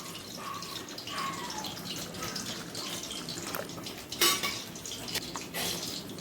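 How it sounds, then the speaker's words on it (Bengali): Food being rinsed clean with water in a Bengali home kitchen, with steady running and splashing water mixed with light clinks of dishes and utensils, close and continuous. "ধুয়ে পরিষ্কার করে নেব মতো জল দিয়ে"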